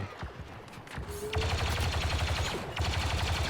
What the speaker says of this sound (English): emergency grenade we fired there